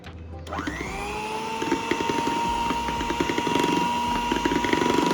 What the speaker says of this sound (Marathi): आता इथे हाय स्पीडवर आपल्याला क्रीम बीट करून घ्यायची आहे.